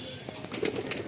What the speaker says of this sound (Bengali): এই যে পায়রাগুলো এই আবার এসছে এখানে